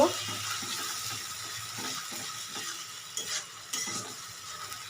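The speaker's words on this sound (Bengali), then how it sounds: "খুব ভালো করে মশলাটা একটু কষিয়ে নেব" A spice paste with turmeric and onion fries for mutton curry over medium heat, giving a soft continuous sizzle with rhythmic stirring scrapes and a couple of brief louder splashes toward the end.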